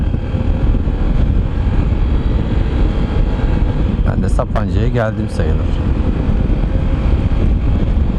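Heavy, constant wind roar buffets the microphone while riding a Honda CB125F motorcycle around Lake Sapanca, loud and rumbling throughout, with someone speaking briefly partway through.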